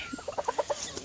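Young fully feathered chickens in a muddy lean-to grow-out coop cluck in a quick series of short, soft calls, close and alone with no talk.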